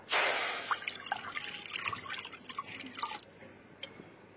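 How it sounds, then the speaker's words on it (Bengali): Water is poured into a hot wok for steaming, starting with a loud rushing splash that fades into a spattering, dripping hiss over a few seconds, heard close with no talk. "কড়াইতে এবার জল দিয়ে দেবো।"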